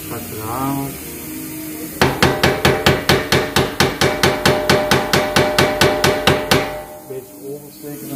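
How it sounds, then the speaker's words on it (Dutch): A hammer strikes steadily and loudly, about twenty evenly spaced blows in quick rhythm, preceded and followed by quieter background noise. "Pak de hamer."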